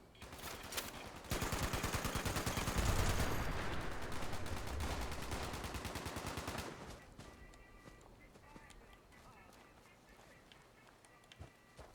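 Sniper and automatic gunfire in the video game Fallout 76 during the Fasnacht parade event: a dense burst of rapid shots for several seconds, then fading to sparse distant reports under a quieter game soundscape.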